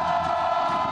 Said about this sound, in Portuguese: Agora a torcida do Dom Bosco explodiu